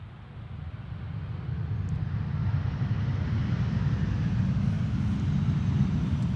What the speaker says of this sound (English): Transavia arriving from Salzburg. That's a 737.